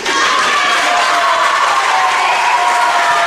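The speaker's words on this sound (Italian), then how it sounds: "Facciamo un applauso ancora a Katia Massaro, a Rossa, ecco, Bruno Mancin" A live audience at a poetry and arts event breaks into loud, dense, sustained applause, many hands clapping together close by without pause.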